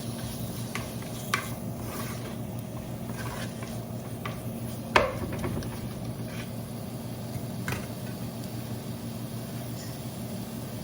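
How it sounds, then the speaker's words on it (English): Tomato curry sauteing in a pan, a steady low sizzle throughout with occasional soft stirring taps and one sharper clack midway, close and even in level. "Again, we're sauteing it."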